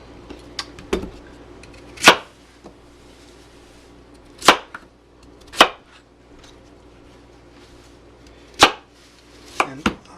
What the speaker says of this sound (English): Now I'm going to cut the bulb up.